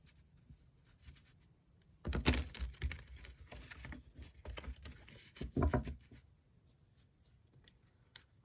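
A deck of tarot cards being shuffled, two short bursts of riffling and flicking card noise separated by quieter handling, close and soft.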